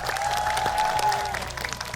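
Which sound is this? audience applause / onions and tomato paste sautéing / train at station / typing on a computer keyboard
audience applause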